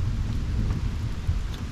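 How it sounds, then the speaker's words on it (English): Thunder rumbles during rain at an isolated train station in Japan: a low, continuous rolling rumble fills the background under a steady wash of rainfall, fairly loud with no talk. "Thunder. Wow, thunder."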